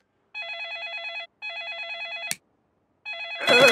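A cartoon telephone on a tropical island in Peppa Pig rings in two clear, trilling electronic bursts and then a third, with a clatter between them as the set is handled and a rustle as the third ring starts.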